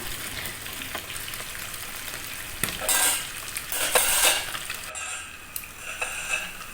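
Mackerel fish frying crisp in a pan, a steady close sizzle with stirring and a few scrapes of a utensil against the pan, loudest in short bursts midway, no talking.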